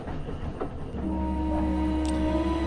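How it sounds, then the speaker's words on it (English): A steam-era train pulling into Washington in the game Around the World in 80 Days, with rumbling wheels and clatter giving way to a sustained loud tonal hum as it comes in close. "The train was as fast as advertised, and we arrived into Washington in short order and without incident."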